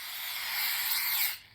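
A spray can hisses in one steady, unbroken burst while mice are sprayed in a video game, loud and close, then cuts off sharply near the end.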